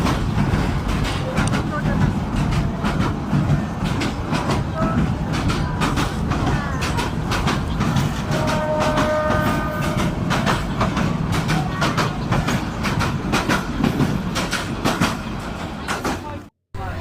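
A train passing close by near a market, a loud continuous rumble and rattle of wagons with rhythmic clatter lasting throughout, ending abruptly.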